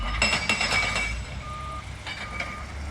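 Heavy machinery rumbles nearby with metallic clinks and a brief high tonal whine from a working excavator beside a rock crusher, no talking.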